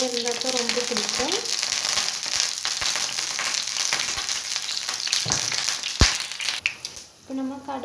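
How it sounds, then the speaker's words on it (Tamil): Oil heating in a hot pan for gooseberry pickle gives a loud, continuous sizzle and crackle that fills the whole stretch, with a voice speaking briefly at the start and again near the end. "இப்போ எண்ணெய் தேவையான அளவு எண்ணெய் ஊற்றிக்கலாம்"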